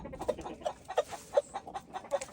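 Two lavender Orpington hens and a rooster cluck in a backyard, a steady run of short, close clucks repeating every fraction of a second, with no voices.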